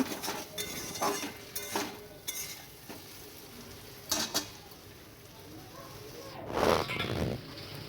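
A spoon stirs a thick hilsa fish curry in a pan, making a few separate scraping strokes spaced several seconds apart over a soft, steady sizzle and faint background noise.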